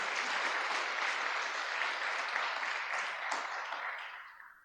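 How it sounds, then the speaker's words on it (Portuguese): A church congregation at a Sunday service applauds together, a dense, steady wash of clapping that holds for several seconds and then tapers off toward the end. "Dê um aplauso a esse Deus que se importa conosco."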